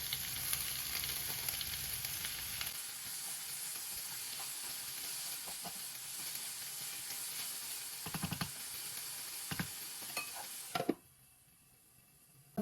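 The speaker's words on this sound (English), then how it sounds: "To this pan, I'm going to be adding the onions and tomatoes." Onions and tomatoes sizzle steadily in a pan, a faint continuous frying hiss with a few clinks of a utensil, then a sudden drop to near quiet at the end.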